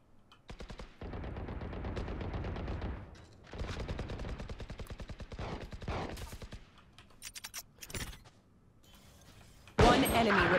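Gunfire in the shooter game Valorant, including shotgun blasts: bursts of rapid mechanical shots in clusters with short pauses, loud and close, ending on a sharp sudden blast, with some speech now and then.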